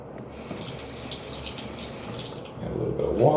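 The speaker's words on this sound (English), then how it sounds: "Add a little bit of water" Tap water running into a sink while testing Marvis toothpaste foam, a steady close hiss of flow that swells louder near the end.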